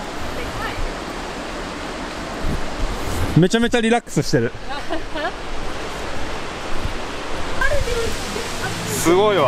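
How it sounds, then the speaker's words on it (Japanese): A waterfall in Zion National Park, pouring and dripping over a curved, eroded rock alcove, makes a steady broad rushing hiss nearby, while someone briefly speaks over it. "今ね、ここに滝が流れてんだけど"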